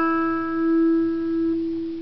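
An electric guitar played without an amp rings out as one quiet, thin sustained note, plucked once and fading within about two seconds, close and alone.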